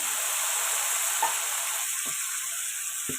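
Tomato puree goes into ginger garlic paste frying in a pan, a loud, close, continuous hissing sizzle with a few soft thuds and scrapes.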